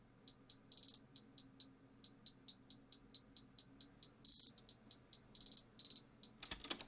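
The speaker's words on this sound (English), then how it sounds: "And then we have the hi-hats." Crisp hi-hat pattern in an FL Studio trap beat, with rapid evenly spaced ticks broken by short rolls and stutters, isolated and playing alone over a faint low hum.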